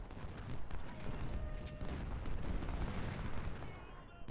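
Civil War artillery and massed musket fire in a battle strategy game, a dense continuous rumble of overlapping booms and crackling volleys, fairly loud, with faint talk beneath.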